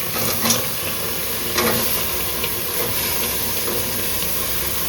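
Tomatoes dropped into frying masala for biryani hiss and sizzle steadily in a home pan, with a few sharper bursts near the start and a constant steamy crackle close by.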